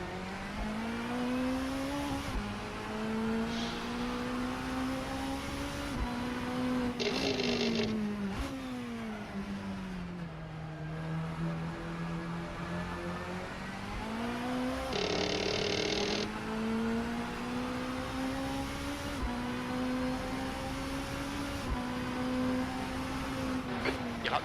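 A front-wheel-drive 1990s British touring car's engine drones and revs through a race lap from inside the cockpit, its pitch rising and dropping through gear changes and corners, loud and steady throughout.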